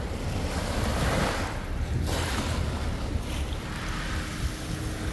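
Sea waves at the shore of a Datça bay wash in with a loud, steady roar, mixed with heavy wind buffeting close to the microphone, and no voices.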